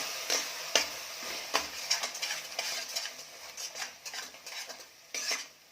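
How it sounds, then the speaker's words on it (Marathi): Coconut paste being stirred into a Kolhapuri mutton curry in a pot, repeated scraping and clinking of a spoon against metal with soft sizzling underneath, no talking. "खोबऱ्याची पेस्ट करून घेतलेली म्हणजे खोबरं वाटून घेतलेलं आहे ते घालायचं आहे आणि छान मिक्स करून घ्यायचं"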